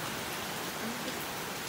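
Steady, dense rainfall hissing continuously during an outdoor birthday party, close and fairly loud, with no other sounds standing out.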